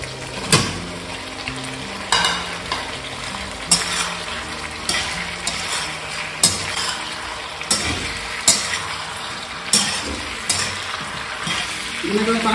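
Fish pieces for chilli fish frying in hot oil in a pan, a steady loud sizzle broken by regular scraping stirs every second or so, with faint utensil clinks and no talk.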